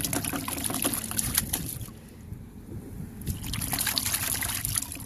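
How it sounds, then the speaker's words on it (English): Water splashes and trickles steadily as a bristle brush is rinsed during a waterless car wash, a close, continuous wet swishing that eases briefly in the middle before picking back up. "I can just rinse it."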